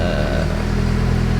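A Saab 90 engine idles steadily after a carburettor rebuild, a close, continuous low rumble with an even pulsing beat and no voices.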